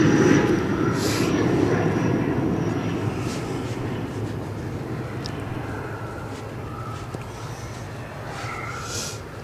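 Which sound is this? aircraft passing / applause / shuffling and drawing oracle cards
aircraft passing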